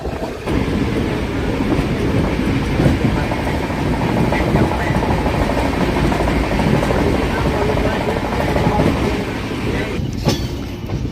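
A train runs from Kadapa toward Kurnool in the Rayalaseema region. A steady loud rumble with rhythmic clatter fills the whole stretch, with a brief sharper metallic squeal near the end.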